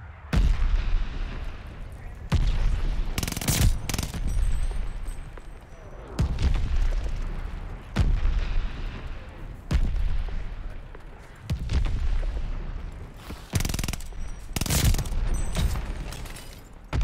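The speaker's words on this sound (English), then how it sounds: "Mortars incoming." Mortar explosions in the game Call of Duty: Vanguard: heavy booming blasts land repeatedly at irregular intervals, several close and loud, with ongoing battle rumble between them.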